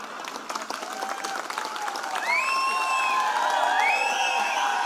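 A political rally audience breaks into clapping that swells into cheering and whoops, loud and sustained toward the end.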